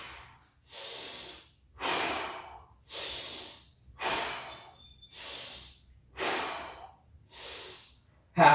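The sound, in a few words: heavy exhaling during a plank ab workout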